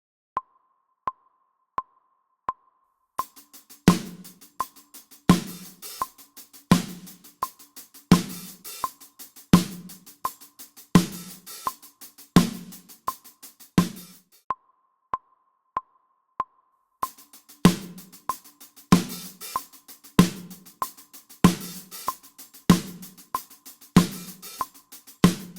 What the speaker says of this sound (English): you're going to have something that sounds like this